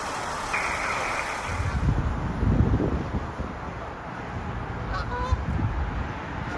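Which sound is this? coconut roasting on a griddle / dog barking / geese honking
geese honking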